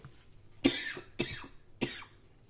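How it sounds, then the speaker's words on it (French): A person coughs three times in a row, short harsh bursts spaced about half a second apart in a quiet room. "cette toux, c'est pas possible"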